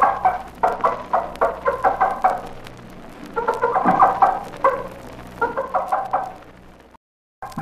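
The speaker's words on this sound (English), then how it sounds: "When a mother hen discovers some grain or other food, she scratches and pecks at the food and calls her chicks with excited food calls." A mother hen at a small farm clucks excited food calls to her chicks, quick repeated clucks in several bursts with short pauses, close and fairly loud against a steady low background hum.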